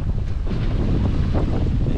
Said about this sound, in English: Wind kicked back up here.